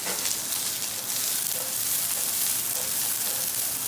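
Chili peppers and Szechuan pepper fry in a very hot pan with a dense, constant sizzle and crackle, close and fairly loud, with no voices over it.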